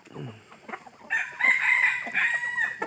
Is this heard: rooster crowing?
yes